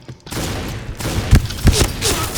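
Rapid automatic gunfire from a weapon in the shooter game Point Blank, a burst of close, loud shots clustered in the second half, with brief bangs and a faint voice beneath.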